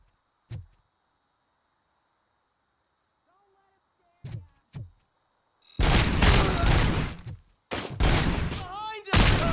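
Gunfire in the video game RoboCop: Rogue City: a few single sharp shots ring out early, then dense, loud rapid bursts of firing rattle on near the end.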